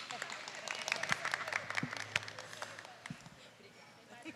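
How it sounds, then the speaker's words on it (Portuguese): Applause from an audience at a talk on Black motherhood, a dense patter of clapping with louder individual claps in the first half that thins and fades toward the end, with some voices mixed in. "Palmas, gente."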